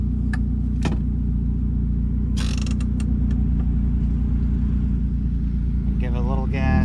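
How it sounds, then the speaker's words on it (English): A Nissan Rogue engine runs loud and unmuffled with the muffler removed, a steady low drone filling the clip alongside creaks and mechanical clatter nearby. "So we'll start it up. It's going to be super loud because we're doing the muffler."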